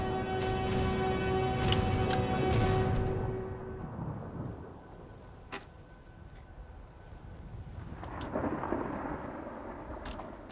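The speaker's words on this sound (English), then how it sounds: "Oh, it sounds like there's a thunderstorm." Thunder rumbles through a thunderstorm in the Skyrim video game, a loud rolling peal fading out with a sharp crack midway, then a fresh surge of rain and distant rumble returning near the end.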